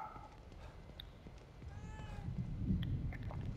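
A cat meows in the video game The Evil Within 2, one faint short call over quiet game ambience and soft footsteps.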